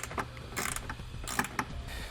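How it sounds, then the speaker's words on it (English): A 7/16 wrench and socket snugging up mounting hardware for a diode wiring kit on a 2018 GMC, giving quiet mechanical ratcheting clicks and scrapes in short irregular bursts, close by with no talk. "you're going to want to grab a 7/16 wrench and socket, and then we can snug up the hardware"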